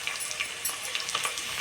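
Freshly pounded ginger and garlic frying in oil, a steady close hiss of sizzling with small bubbling pops, brief and unbroken by talk.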